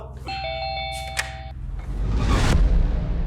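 A household doorbell rings with a two-tone electronic chime, then a rising rumble and a burst of noise follow as the chime fades.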